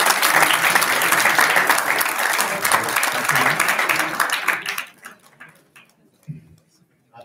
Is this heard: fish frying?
no